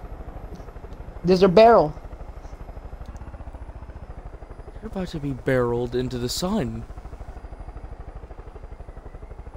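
Helicopter in the video game Far Cry 5, a steady rapid rotor chop and engine drone running throughout at moderate level, with people talking over it in two short bursts.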